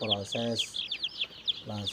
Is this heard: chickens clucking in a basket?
yes